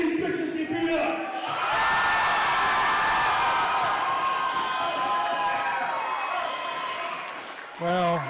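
A wrestling crowd at a BCW show cheers and whoops loudly, a sustained roar with shouts that swells and then fades slightly, with a voice briefly heard at the start and end.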